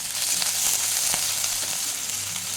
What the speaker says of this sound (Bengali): হাফ চা চামচ আদা গ্রেট করা এখানে দিয়ে দিচ্ছি